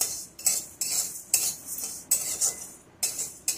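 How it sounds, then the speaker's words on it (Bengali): Mung dal being dry-fried in a hot kadai, a spoon scraping and stirring it in bursts; sharp rhythmic clinks and rasps come close and loud at uneven intervals, with no talk. "আমি এখন মুগ ডালটা ভেজে নিচ্ছি।"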